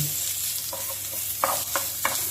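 Chopped garlic and ginger sizzle in hot oil in a pan while a utensil stirs them, giving a constant close frying hiss broken by several sharp scraping strokes in the second half.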